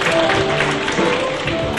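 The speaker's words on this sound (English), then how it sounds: "let's give a round of applause for them." Wedding reception guests applaud together, a dense even patter of many hands heard at a moderate distance in a reverberant room, with faint background hum.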